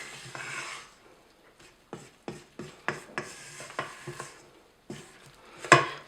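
A spatula scrapes through stiff champagne buttercream for cupcakes in a series of short, close scraping and tapping strokes, with a louder clack near the end and no talk.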